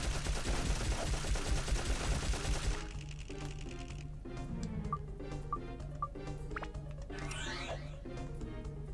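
Rapid, rattling bursts of gunfire in the video game Dark Cloud, dense and mechanical at first, then thinning into scattered shots and clicks over a low droning background.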